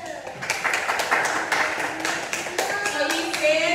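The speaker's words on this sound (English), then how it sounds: "give him a big clap" Kindergarten children in a classroom clap for a classmate, a dense patter of small hands with voices talking over it throughout.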